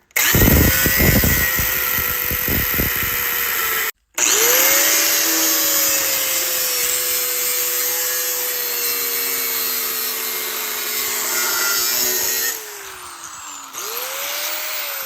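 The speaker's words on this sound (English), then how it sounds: "I'm going to cut off the weld." A power tool grinds through the weld on a transmission crossmember, a loud continuous whine that rises and shifts in pitch as it bites. It stops briefly, then runs on and eases off near the end.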